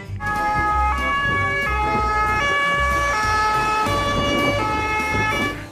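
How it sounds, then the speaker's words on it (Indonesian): A toy ambulance siren wails loudly and continuously in a repeating two-tone pattern, close up and clear with no talk over it. "Ini ada mobil ambulan teman-teman."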